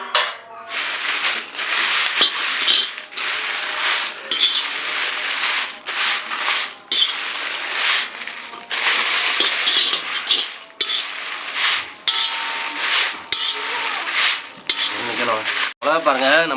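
Dry chillies being stirred and dry-roasted in a pan for Tamil kuzhambu curry powder, a steady scraping and rattling of spoon against metal with light clinks, continuous and close throughout.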